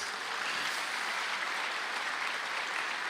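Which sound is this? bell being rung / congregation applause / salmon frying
congregation applause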